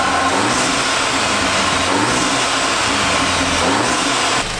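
Running engine of a wrecked Audi S3 after injector work, a loud, steady, rough hum held throughout at close range.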